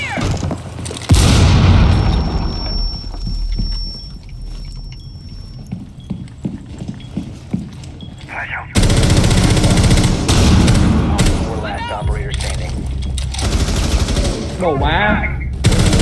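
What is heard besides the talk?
gunshots in video game Rainbow Six Siege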